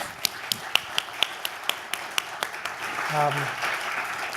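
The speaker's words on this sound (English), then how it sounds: "Could we please have a round of applause for all 3 of our speakers?" Conference audience applauding its speakers, beginning as a slow, even series of single claps that grows into a fuller round, with a voice speaking briefly over it toward the end.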